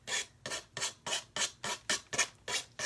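An emery board rasps back and forth across a painted pumpkin in eight or nine even, quick strokes, each a short dry scratchy hiss, close and fairly faint with brief gaps between.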